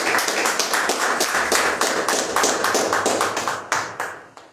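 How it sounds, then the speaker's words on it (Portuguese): A church congregation at a Saturday service claps in praise in a steady, even rhythm, with many hands striking together at a moderate level and the beat continuing for several seconds. "Você pode louvar o Senhor Jesus com as suas palmas?"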